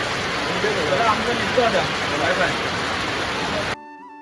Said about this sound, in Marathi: आज पाऊस चांगला पडतोय